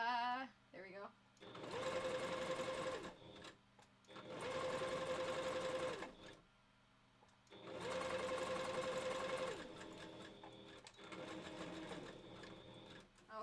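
A sewing machine stitches wolf partial furs together, running in four steady bursts of a few seconds each, separated by short pauses.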